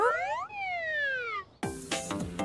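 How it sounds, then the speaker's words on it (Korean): A cartoon ambulance siren wails in two rising-and-falling electronic sweeps, followed by a sudden burst of bright, clattering animated sound effects, all fairly quiet. "구급차 앰버가 응급한 상황으로 달려가고 있네요"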